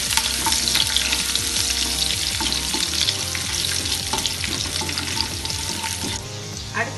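Chopped ginger and garlic frying in hot oil in a pan for carrot rice, a steady loud sizzle with stirring scrapes running throughout, no voices.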